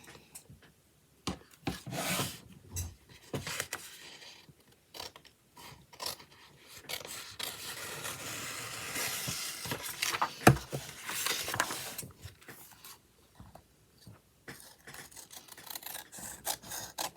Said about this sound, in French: je peux couper ma page. Ah, mon grand ciseau